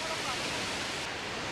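Dabhosa waterfall near Palghar, heard from the water at its base: dense, steady roaring rush of falling water, loud and close, filling the whole short stretch.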